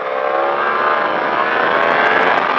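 A Yamaha R1 sportbike engine at full throttle on a track run, a loud, steady high-pitched roar holding constant throughout with no speech.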